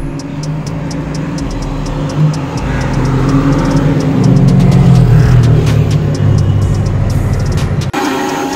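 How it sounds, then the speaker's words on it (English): A left-hand-drive Chevrolet C4 Corvette rumbles close by as it pulls up on a street in Mumbai, its low engine note building steadily before cutting off sharply near the end. "Look who pulled up, C4 Corvette,"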